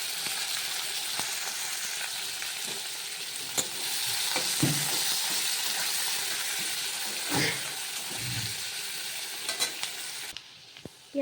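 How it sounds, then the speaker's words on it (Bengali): Chopped onions fry in a pan for mutton curry, a steady close sizzle broken by a few clinks and stirring scrapes, with no talk. "পেঁয়াজগুলোকে লাল লাল করে ভেজে নেব।"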